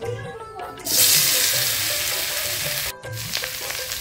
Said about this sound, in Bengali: সিদ্ধ করা আলুটা এখন ভেজে নেব।